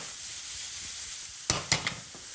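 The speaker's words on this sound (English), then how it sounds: "Now this is sizzling away" Salmon sizzles in a frying pan with a steady hiss, then three sharp, close scrapes or jostles of the pan near the end, with no talk.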